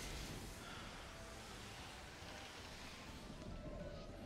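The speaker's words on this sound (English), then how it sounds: "Thunder." Thunder spell effect in Final Fantasy XIV as a Blue Mage on Ultros, a steady broadband rumble and crackle like rain and thunder, loud and continuous throughout with no voice.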